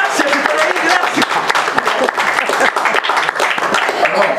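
Dense audience applause fills a variety show venue, a steady loud wash of many hands clapping with no pauses.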